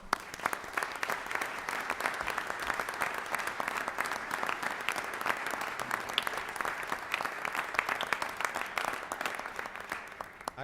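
Attendees at a city council meeting give a round of applause, a fairly quiet but steady wash of many hands clapping that holds evenly for about ten seconds with no voices over it.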